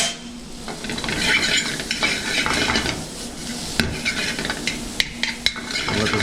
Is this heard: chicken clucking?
no